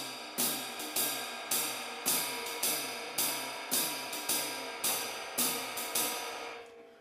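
Jazz waltz drum pattern in 3/4 time on a ride cymbal with hi-hat on beat 2, a steady loping rhythm of bright cymbal strokes and light drum hits repeating for several bars, played close with no talking.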